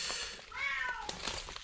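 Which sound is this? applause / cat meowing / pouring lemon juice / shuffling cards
cat meowing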